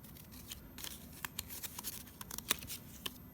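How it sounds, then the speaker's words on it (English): Paper snipped with scissors into a curved teardrop shape, a quiet, irregular run of crisp little cuts and slices with no voice. "I can cut, let's see, kind of a teardrop shape in there"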